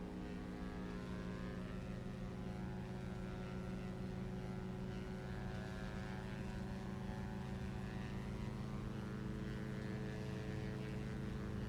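Aerobask DA 62 twin-propeller plane in a flight simulator during its takeoff roll, a steady, loud droning engine and propeller hum with constant rumble that holds throughout, no voices.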